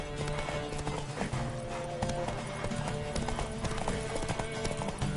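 A horse's hooves clip-clop in The Witcher 3 as it gallops in a race, fast and continuous close by, mixed with game sounds.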